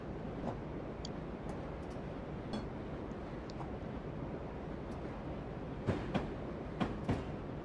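A train rolls slowly through a rail yard in Train Simulator 2020, a low rumbling bed with scattered light clicks and a few louder clanks near the end, no voices.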